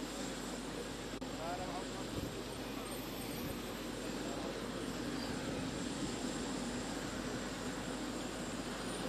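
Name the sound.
airplane engine at airport arrival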